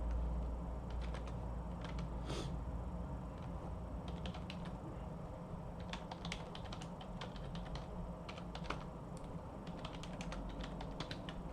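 Computer keyboard typing while writing a display array function in code, steady irregular clicks of keys in quick bursts over a low background hum, moderately close, with no speech.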